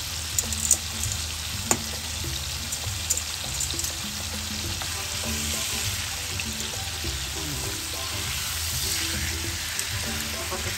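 Chicken pieces frying in hot oil for chicken sisig, a steady dense sizzle with crackling pops that holds close and even throughout, no voices.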